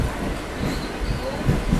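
A train stands at a platform on the Chennai Beach–Chengalpattu line, with a steady low rumble of rail noise and idling machinery throughout, plus a couple of brief thuds near the end.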